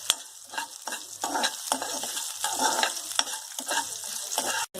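Mustard seeds spit and crackle in hot oil for poori potato masala, a rapid, irregular run of sharp pops over a steady frying hiss, heard close with no talking.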